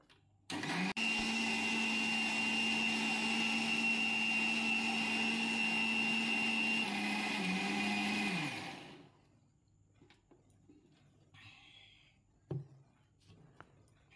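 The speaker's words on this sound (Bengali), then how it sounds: "এবার এটাকে ভালো করে ব্লেন্ড করে নেব।" A kitchen blender purees tomatoes, green chili and garlic into a paste, a loud steady whir running for about eight seconds before spinning down, followed by quiet with a few faint knocks.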